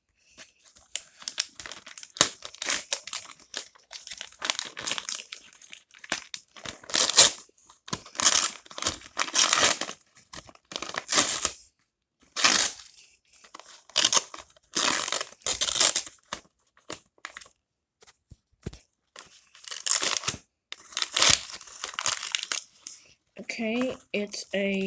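Wrapping paper on Christmas presents being torn and crumpled at close range in repeated bursts of crinkling and ripping with short pauses between, while a voice speaks briefly near the end.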